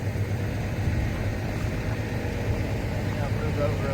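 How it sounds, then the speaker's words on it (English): A truck engine idling steadily up close as the truck is repositioned, a continuous low rumble with a faint hum running underneath. "So Jesse is now going to reposition the truck."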